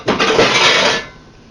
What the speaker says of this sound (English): Now let me find the lid to that pot.